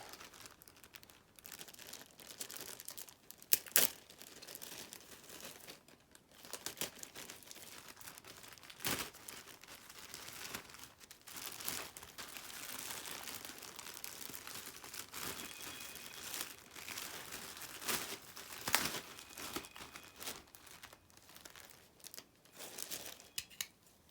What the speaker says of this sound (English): I think I will just cut this open.